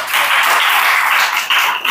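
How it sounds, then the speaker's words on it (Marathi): A dense, steady burst of audience applause at a Buddhist Dhamma class inauguration ceremony, honoring the monk Bhikkhu Ratnadeep Thero; loud and close, sustained with a brief dip near the end. "तर भंतीजी सुद्धा साठी आपण एकदा जोरदार टाळ्या वाजवून त्यांचं या ठिकाणी"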